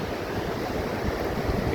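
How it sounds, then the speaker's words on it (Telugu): Rough sea waves at Antharvedi beach on the Bay of Bengal, near where the Godavari meets the sea, make a steady, dense roar of surf with wind buffeting the microphone and no voices. "సముద్రం చాలా రఫ్గా ఉంది అంతర్వేది దగ్గర."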